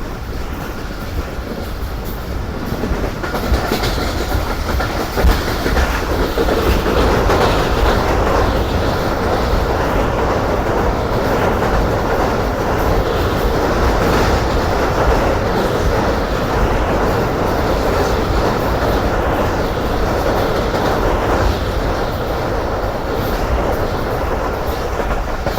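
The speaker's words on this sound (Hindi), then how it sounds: "बहुत ज़बरदस्त स्पीड पर ट्रेन ने स्किप किया है बारान बनास को" The Rehman Baba Express rushes past at high speed with a loud, continuous rumbling roar and rattling wheels that hold steady for the whole stretch, with no voices.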